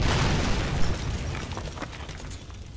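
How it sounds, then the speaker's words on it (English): A loud explosion in the Penumbra Necrologue video game: a heavy, broadband boom that rumbles and slowly decays over a few seconds, with faint debris-like crackles as it fades. "that explosion wasn't exactly quiet"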